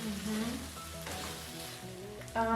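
Okra is stirred together with beef stew in a pot, producing a quiet simmering sizzle with a few soft utensil scrapes and knocks, close and low in level.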